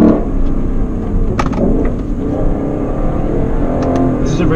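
A 2017 Lexus LC 500 engine revs hard through quick manual-mode gear shifts on a tight road, a loud, steady engine roar filling the whole clip with brief surges between shifts.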